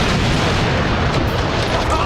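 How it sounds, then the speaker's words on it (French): A huge, sustained roaring blast as explosives detonate inside a car trunk, loud and dense with rumbling debris noise throughout. "Cette explosion était énorme!"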